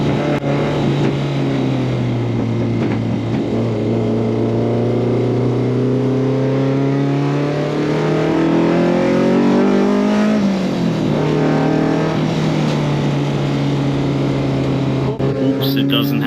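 The 1989 DTM championship-winning BMW M3 E30 race car drives with a loud, steady engine drone close by, its pitch climbing slowly, dipping sharply near the end, then settling again.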